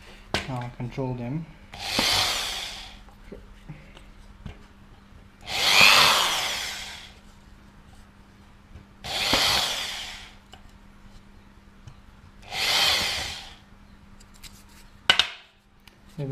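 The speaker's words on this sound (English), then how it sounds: "Biggest thing I like to do is drill these oaks together" Four separate bursts of harsh, grinding power drilling into a drone motor mount, each a couple of seconds long, separated by quiet pauses and small handling clicks.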